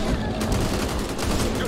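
Gunfire in the co-op shooter Back 4 Blood, a loud continuous barrage of rapid shots with dense layered bursts filling the whole moment, no pauses.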